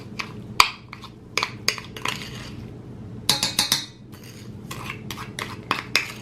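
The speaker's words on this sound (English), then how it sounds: "Now I'm gonna mix everything into the bowl." Butter, flour and salt for pandesal being mixed in a bowl, with a string of sharp utensil clinks and scrapes against the bowl, coming in irregular bursts, close and fairly loud, with no talking.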